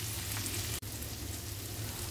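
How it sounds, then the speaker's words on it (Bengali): Onion and slit green chillies frying in a pan for a fish curry, giving a steady, loud broadband sizzle that runs throughout with one brief dropout. "তো চলো পেঁয়াজটা ভাজা হোক"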